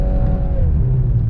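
A 2022 Volkswagen Golf R with DSG gearbox drones loudly and steadily as it revs while its wheels spin in snow, the engine pitch falling slightly midway through.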